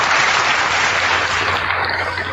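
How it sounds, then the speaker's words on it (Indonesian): A gathered crowd gives a short burst of applause during a religious discussion, dense clapping at a steady level with a faint electronic hum beneath. "Mohon doa teman-teman dan tepuk tangannya juga"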